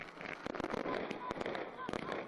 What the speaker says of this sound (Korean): 배움의 천리길 학생소년 공연 앞에서는 불꽃놀이가 진행됐습니다